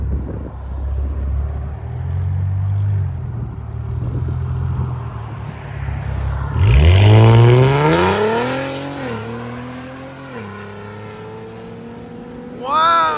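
A 2017 Infiniti Q60 Red Sport 3.0L twin-turbo V6 with no catalytic converters and exhaust valves open: a low idle burble, then one sharp loud rev that swells and falls away in steps, and a brief blip at the end.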